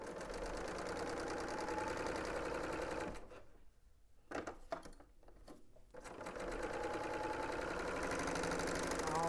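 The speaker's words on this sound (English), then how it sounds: "Right now I am stitching down the shoulder seams." A sewing machine runs stitching down the shoulder seams of a garment, a steady loud hum that halts midway for a few seconds of quiet handling, with brief bursts, then resumes and runs on to the end.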